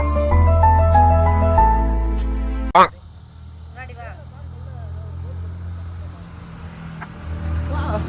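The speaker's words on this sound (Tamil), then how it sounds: "எல்லா பக்கமும் சவுண்டு. ஏன்னா ரோட்ல நிக்கிறோம்ல" Road traffic rumbles steadily beside the Sherva Stellar Resort in Yercaud, following a few seconds of music and a sharp knock, with faint chirps and a low outdoor hum continuing in the background.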